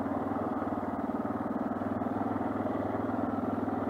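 A dual sport motorcycle engine runs steadily during an urban ride, its low throbbing pulse fairly quiet and constant with a faint rhythmic flutter.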